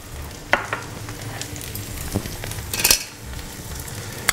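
Onions cook in a pan with a soft steady sizzle, broken by a few sharp utensil clicks and scrapes, close and without talk.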